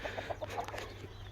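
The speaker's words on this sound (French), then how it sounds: "La poule doit pas être très loin normalement." A hen at a poultry breeding farm clucks in a quick series of short, soft pulses, fairly close, over a low steady background hum and with no one talking.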